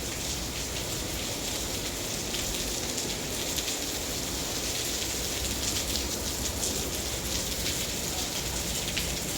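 Steady rain falling outdoors beside mailboxes, a dense continuous hiss of drops pattering on surfaces, fairly loud and unbroken throughout, with no talking.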